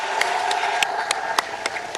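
An audience at a medical sciences faculty pledge ceremony applauds steadily, with sharp individual claps and cheers punctuating a dense, even round of clapping.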